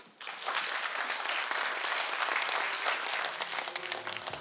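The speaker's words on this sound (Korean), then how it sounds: "다시 한번 큰 박수 부탁드립니다" Sustained applause from an audience at a Catholic awards ceremony in South Korea, dense and steady clapping that starts abruptly and carries evenly throughout, with only a faint hint of voices beneath.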